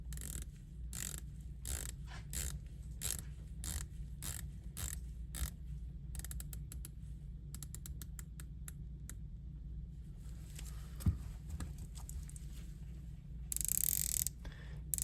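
The rotating bezel of a 42mm Breitling Superocean dive watch turns in bursts of crisp, rapid clicks, quiet and close, with pauses between runs.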